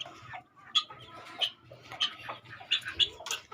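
Desi hens and chicks clucking around a backyard cage, with several short sharp clucks at irregular intervals over steady low farmyard background noise, fairly near.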